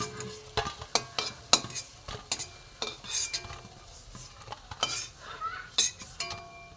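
Pumpkin kofta frying in oil in a pan, with soft sizzling broken by frequent sharp clinks of a utensil against the pan, close and fairly quiet.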